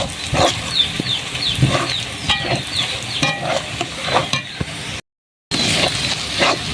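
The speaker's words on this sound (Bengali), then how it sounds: "এই যে দিয়ে দেব এখানে তেজপাতা, এলাচ, লবঙ্গ ও দারুচিনি। দিয়ে মশলাটা আরও একটু ভেজে নেব লাল লাল করে।" Whole bay leaf, cardamom, cloves and cinnamon fry in a spice paste for a poultry curry, with a close sizzle under repeated scraping stirs and spoon knocks, then a brief silent gap.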